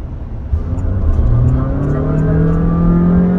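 A 2022 Honda City Hatchback RS hybrid's engine kicks in as the car accelerates, bringing a rising, steady drone that climbs in pitch and holds loud and close.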